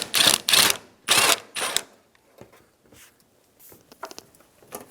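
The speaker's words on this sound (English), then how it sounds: "we're going to put a long extension through with a 12mm socket to remove the bottom bolt for" A ratchet turns a 12mm socket on a long extension to remove the bottom radiator bolt on a 2000-2006 Toyota Tundra, first in loud, close bursts of rapid clicking, then in fainter, scattered clicks and taps.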